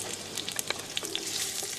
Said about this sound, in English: I'm going to fry some lovely bits of smoked fatty bacon, along with some chopped onions